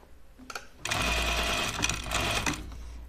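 A sewing machine stitches a seam in a garment-making session, the motor starting after a few brief clicks and then running in a steady, rapid, close whir for about two seconds before slowing.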